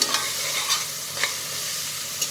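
Ginger garlic paste sizzling and frying in hot oil for a home-made chicken biriyani, with a spoon stirring in a few distinct scrapes over a steady close hiss.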